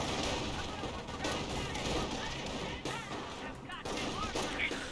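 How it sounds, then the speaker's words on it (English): A sniper rifle shot rings out in a Company of Heroes 1 battle, with muffled gunfire, artillery and battlefield noise rumbling at low volume and talk faintly present. "There's a sniper does send a shot over here"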